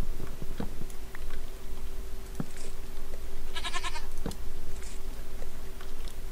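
A Minecraft goat bleats once in a short quavering burst midway through, amid quiet in-game background noise and a few faint clicks and taps.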